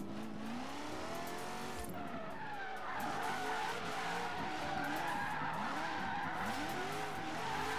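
Tires of a Corvette Z06 squeal in a long, wavering skid as the car slides under the e-brake in Forza Horizon 3, loud and continuous over a droning engine, with no talk.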